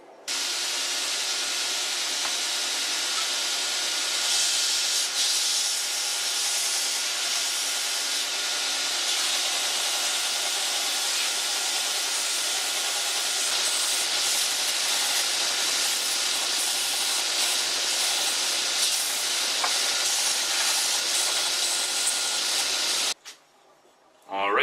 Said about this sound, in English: I'm just going to prep them on the grinder and get them ready to drill the pinholes